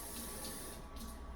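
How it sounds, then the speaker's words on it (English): Water runs from a tap and pours into a bottle of hair dye, a steady, soft, close splashing flow that lasts the whole moment. "I'm gonna put some water in it"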